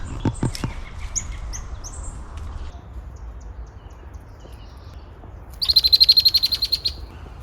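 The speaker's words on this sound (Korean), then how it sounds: "아 새가 싸워." Birds in a botanical garden give short sharp chirps early on, then one bursts into a loud rapid trilling rattle near the end, with quiet outdoor ambience between calls.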